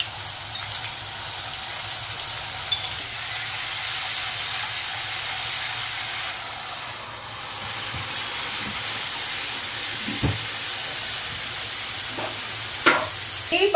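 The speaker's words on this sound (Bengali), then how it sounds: "এখানে তেলটা আমার গরম হয়ে গেছে, কালো জিরে দিয়ে দিলাম।" Black cumin seeds sizzle in hot oil in a home kitchen, giving a steady, close frying hiss that runs throughout, with a few soft clicks and taps near the end.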